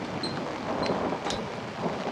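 Thunder from a lightning strike in the horror game Outlast sounds as a broad, noisy rumble with rain-like hiss, steady and fairly loud over a brief stretch, with faint high chirps above.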